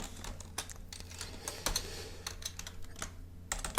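Soft clicks of a computer keyboard being typed on, irregular bursts of light keystrokes with short pauses, fairly quiet and close, with no voices.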